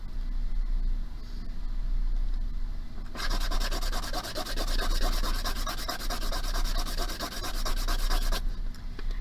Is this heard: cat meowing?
no